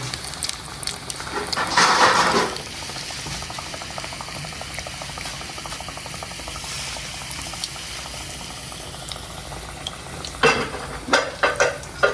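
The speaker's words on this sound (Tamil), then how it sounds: "நல்லா எண்ணெய் ஒதிச்சு நல்லா பொரியுது பாருங்க" Plantain bajji frying in hot oil in a home kitchen gives a steady, close sizzle with bubbling, and louder crackling flare-ups near the start and toward the end.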